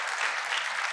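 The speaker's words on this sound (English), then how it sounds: "So big round of applause for Josh, who did all this for years." Dense audience applause at a Magento Association conference, steady and even for a brief moment without any voices.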